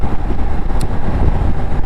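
A Triumph Tiger 1200 Rally Pro motorcycle with a T-plane crankshaft engine, ridden on the road with hard luggage boxes fitted, gives a loud, steady rumbling engine drone mixed with constant wind roar.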